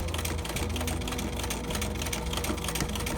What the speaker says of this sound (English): Sew through the X, go over to the end.